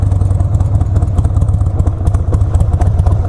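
A Harley-Davidson Sportster with a 74 cubic inch engine runs steadily and loud up close, a rapid lumpy exhaust pulse throbbing through the whole stretch without talk.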